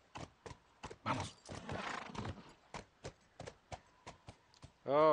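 Horse hooves clip-clop in a steady series of sharp, evenly spaced beats in The Last of Us, with a brief louder rustle partway through and a horse whinny at the very end.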